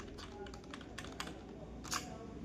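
Fingers type on a computer keyboard, making a run of light, quick clicks and taps with small pauses between bursts, close but quiet, over a faint background hiss.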